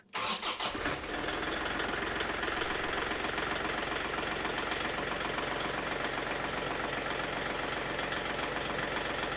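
Bandit 2550 stump grinder engine cranking and catching, then settling into a loud, steady close idle with a rough knocking rumble that runs on without a break.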